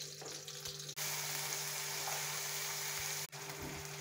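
Vegetables, washed and chopped, dropped into hot oil with onion and cumin for whole-wheat noodles, giving a steady broad sizzle that fills the whole stretch, broken by two brief dips as more goes in.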